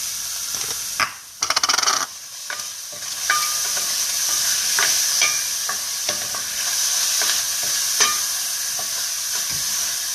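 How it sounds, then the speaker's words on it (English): Onions sizzle and fry in a hot pan over medium-high heat, a steady bright hiss with scattered clinks and scraping stirs from a utensil. No one speaks. "So I'm going to go ahead and let that start sizzling there for just a moment."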